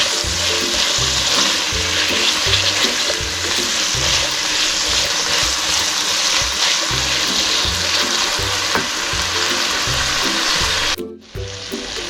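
Potatoes and peas fry in oil with a loud, steady sizzle and crackle throughout, with occasional stirring scrapes and a brief dip near the end.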